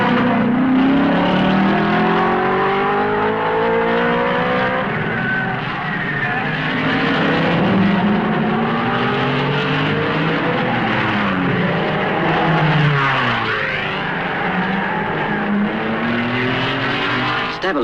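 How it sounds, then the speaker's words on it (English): Formula One cars race at the 1955 Belgian Grand Prix, their engines droning loudly and continuously with rising and falling pitch as several cars pass, a roar that dominates the whole stretch without talk. "At La Carrière, the Ferrari is coming up behind Castellotti."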